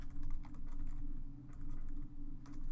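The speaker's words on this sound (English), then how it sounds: "Oops, my typing is getting bad." Rapid typing on a computer keyboard while writing Java code, a quiet, steady patter of key clicks with brief pauses between bursts.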